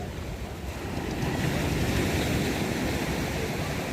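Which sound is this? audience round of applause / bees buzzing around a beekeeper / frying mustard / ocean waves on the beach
ocean waves on the beach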